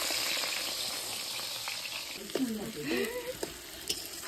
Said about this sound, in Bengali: আলু ভাজাগুলো ওই ভাজা হচ্ছে